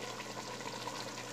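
Goat broth (yakhni) poured into a pot of frying goat trotters for paya, a brief steady watery gush and sizzle at a moderate level, heard alone.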